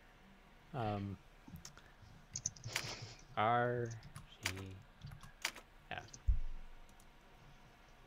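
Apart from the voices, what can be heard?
typewriter keys clicking in a video game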